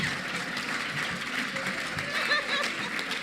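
Applause from an audience at an association's annual gala dinner and awards night, a steady patter of many hands clapping a little way off, with faint chuckles and murmuring throughout.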